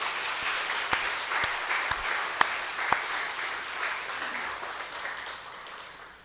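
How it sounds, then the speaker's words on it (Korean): A church congregation applauds in a steady, dense wash of clapping with a few sharp louder claps near the start, gradually thinning and fading toward the end, with no voices over it. "1세대 보엠 수미에게 한 번만 더 박수하십시다"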